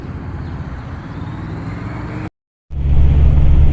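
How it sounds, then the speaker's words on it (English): Lifted Ford E350 camper van cruising at a steady 60 mph on cruise control, giving a continuous low engine and road drone that cuts out briefly and then resumes, louder and heavier. "60 miles per hour, cruise control, driving towards a mountain."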